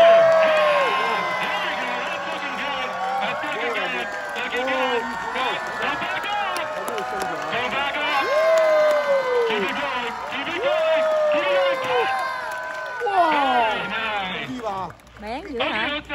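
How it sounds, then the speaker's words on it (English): A large live crowd cheers and shouts together on cue, a sustained loud roar of many voices with excited calls rising and falling, swelling again near the end before dropping off. "cheer!"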